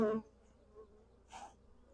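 A honey bee buzzes close to the face while a beekeeper checks a Russian nuc, two brief faint passes of buzzing in a quiet setting after a short louder sound at the start.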